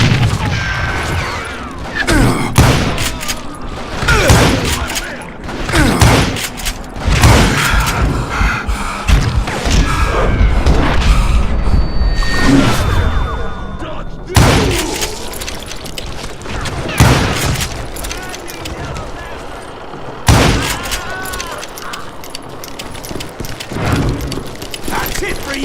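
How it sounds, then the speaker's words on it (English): A Gatling gun fires in bursts during a Call of Juarez Gunslinger western shootout, with rapid loud gunfire, booms and thuds recurring through the stretch alongside game sounds and voices. "Kid Curry opened up on me with a goddamn Gatling gun"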